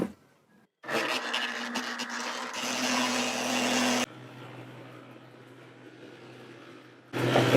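A feed mixer blends wet and dry ingredients for goat, cattle and sheep feed. It starts with a sudden whirring drone, runs loud and steady for a few seconds, drops to a quieter churning hum, then surges again at the end.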